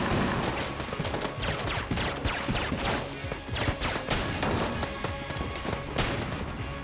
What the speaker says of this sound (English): this is a gun that I've not used before